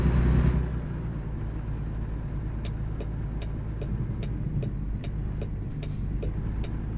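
Peterbilt truck in American Truck Simulator rolling along with a steady low engine drone, a brief higher whine fading early and a few faint clicks or ticks scattered over the constant rumble; no talking.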